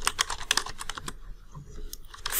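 Rapid typing on a computer keyboard up close, with crisp clustered keystrokes that pause briefly and then resume, with no voice over it.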